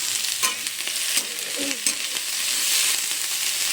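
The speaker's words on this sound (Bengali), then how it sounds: "ফুলকপিগুলো বেশ লাল লাল করে ভাজা হয়েছে" Cauliflower and mixed vegetables fry in a pan with a steady, bright sizzle, broken by a few sharp scraping stirs and clinks of a utensil, close and continuous with no talking.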